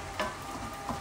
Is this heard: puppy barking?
no